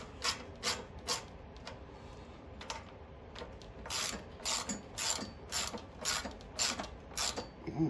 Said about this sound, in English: And we'll get this tightened down.